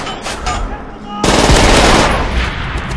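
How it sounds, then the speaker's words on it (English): A PPSh submachine gun fires in Call of Duty: World at War: a loud, sustained automatic burst kicks in about a second in and rattles on steadily, with faint game ambience before it. "I wasted every bullet in my clip, and on the last bullet I get a hit mark."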